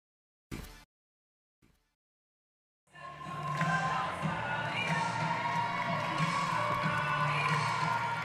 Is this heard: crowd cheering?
yes